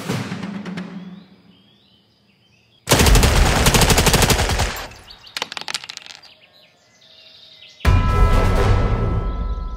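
Bursts of rapid automatic gunfire in the war video game Valor & Victory, loud and close, with dense rattling volleys separated by quieter gaps with faint bird chirps.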